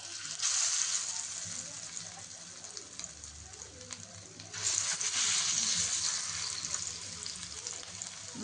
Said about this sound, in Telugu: ఇప్పుడు ఫ్రై చేద్దాం